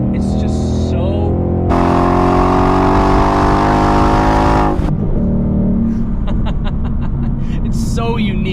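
A Ford Mustang GT S550 with the Coyote V8 holds a steady, throaty exhaust note, then revs hard and loud for about three seconds before dropping back to a lower rumble, with what may be a voice afterward.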